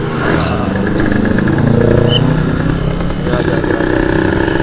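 A 2001 Kawasaki Ninja SS 150 two-stroke motorcycle on a test ride, its engine droning steadily and close throughout while a rider talks over it.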